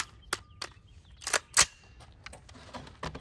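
A suppressed bolt-action .22 rifle fires subsonic rounds at steel targets outdoors, giving a few sharp, dry cracks spaced irregularly, each brief and moderately loud, with quieter clicks between.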